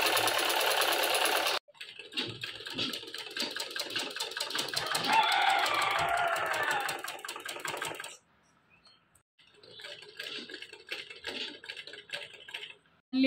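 An electric sewing machine stitches a blouse with a steady, rapid mechanical whir that runs in long bursts and stops abruptly, then a shorter run resumes after a brief pause.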